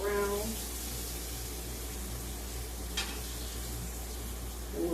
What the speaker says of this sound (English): we'll let those fry